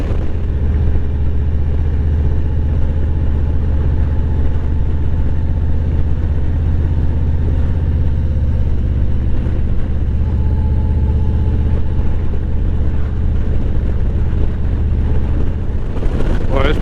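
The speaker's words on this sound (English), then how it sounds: "why do I need to wear some designer jeans when I'm riding my motorcycle?" A motorcycle engine runs steadily during a windy ride, a loud low rumble mixed with wind roar, continuous throughout, with a rider talking over it.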